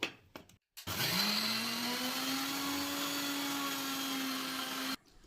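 Mixer grinder whirring as it grinds roasted coconut and coriander in a jar for a Kerala prawn curry, a few short bursts, then a steady loud high whine running several seconds before it stops abruptly.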